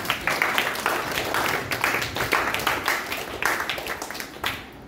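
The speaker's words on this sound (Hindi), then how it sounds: "तालियां बजाओ।" A seated audience at a spiritual camp gathering in Haridwar claps together, a dense patter of many hands that holds steady for several seconds, then fades near the end.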